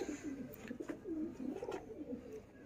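Teddy pigeons of the pure Salaray line on a Sialkot rooftop loft coo continuously in low, rolling, throaty phrases, close and steady throughout with no talking.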